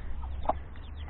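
One short, high peep from a newly hatched chicken chick rises faintly over a low background hum.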